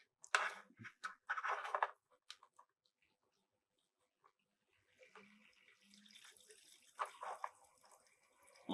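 Coolant splashes and trickles back into the reservoir of a freshly filled, leak-tested ITX water-cooling loop for a 9900K PC, irregular bursts of splashing and dripping at close range, quieting in the middle, then a steadier gurgling flow.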